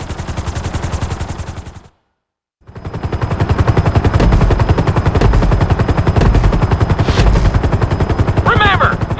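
A helicopter in the GTA V flight school course gives a loud, rapid, even rotor chop, cuts to silence for under a second, then returns just as loud and steady.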